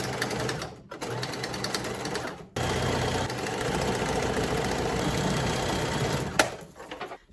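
A sewing machine stitches tightly woven upholstery fabric, running in fast steady bursts with brief stops for back-stitching, followed by a small click.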